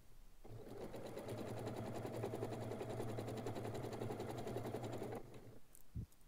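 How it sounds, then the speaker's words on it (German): A sewing machine runs steadily for about five seconds, stitching all the way around the edge of a small fabric bag. The whirring rhythm is close and continuous, then stops, followed by a brief handling knock. "Jetzt einmal ringsherum nähen, einmal von Nadel zu Nadel."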